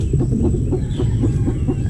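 Shamo chickens in a coop giving low, rhythmic clucks, several birds close by in a steady, repeated chorus.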